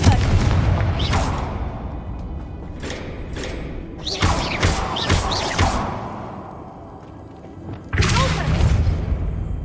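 Repeated blasting-spell explosions cast in Hogwarts Legacy, several loud broadband bursts with thuds and whooshes spread across the clip, with spoken spell calls between them.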